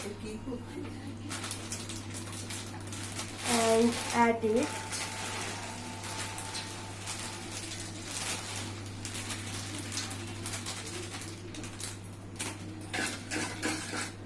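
Metal utensils clink and scrape against a pan as bundi is stirred into melted sugar, with a busy cluster of clatter early on over a steady background hum and someone speaking throughout.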